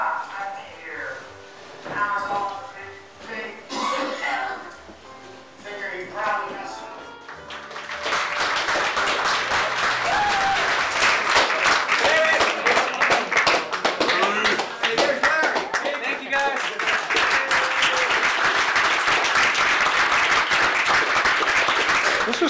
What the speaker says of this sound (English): I'd say there's probably 100 people. 100 people applauding loudly.